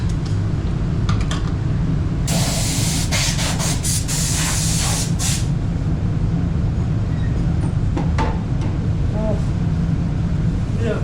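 A spray gun paints a car body in short hissing bursts, loud and close over a steady low workshop hum.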